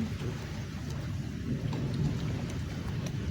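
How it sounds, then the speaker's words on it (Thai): Steady rain falling outdoors during a thunderstorm, a dense continuous hiss with a low rumbling undertone, close and even throughout, with no voices. "ฝนตกแล้วค่ะ"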